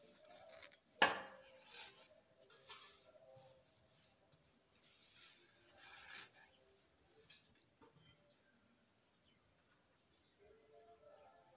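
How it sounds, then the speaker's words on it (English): Dry, crunchy neem leaves tipped into a small bowl, a sharp clink at the start followed by light rustling, crackling and soft tapping, quiet and close. "So I'm just transferring our neem leaves in a small bowl."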